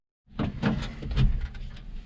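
The door of a John Deere 230 series tractor with a faulty door is slammed shut, giving a short cluster of close knocks and rattles after a brief silence.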